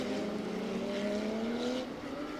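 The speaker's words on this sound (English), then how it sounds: "Hellberger leading the Pro-Am class in that number 1 Phoenix Racing R8 LMS GT3 Evo 2" The number 1 Phoenix Racing Audi R8 LMS GT3 Evo 2 race car runs at Yas Marina in Abu Dhabi during a six-hour endurance race, its engine holding a loud, steady, slowly rising high-revving note throughout.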